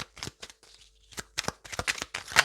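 Tarot cards are shuffled and drawn close up, with quick riffling flutters and crisp slaps in short uneven bursts and brief pauses between them.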